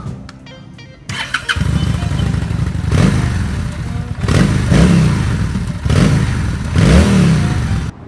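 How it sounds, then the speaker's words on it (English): A motorcycle engine with its old exhaust clatters to life and idles roughly, then revs up several times in short bursts, loud and close. "Now I'll be able to show you what the exhaust really sounds like, but here is how it sounded before."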